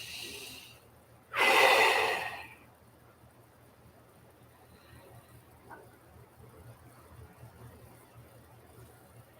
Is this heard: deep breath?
yes